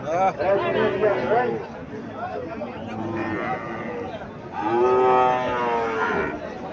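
A calf moos at a crowded cattle market, two long drawn-out calls separated by a pause, loud and close, with people talking and market chatter beneath them.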